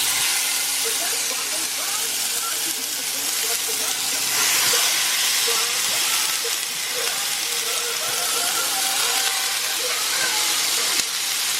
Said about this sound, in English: The sizzle is loud, but look how gorgeously brown.